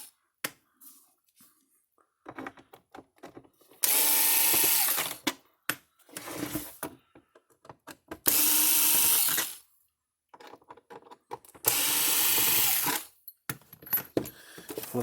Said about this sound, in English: so we're going to take the screws loose